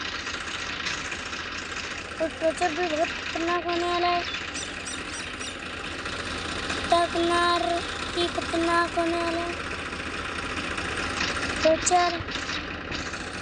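Farmtrac and Massey tractors chained together in a tug of war, their engines droning steadily and loudly throughout, with someone talking over them.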